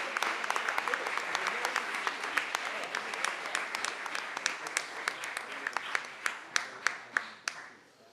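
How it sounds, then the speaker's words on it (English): Audience applause at a school board of education meeting, a dense wash of clapping that carries on throughout and thins toward the end into several distinct, separate claps. "a final round of applause"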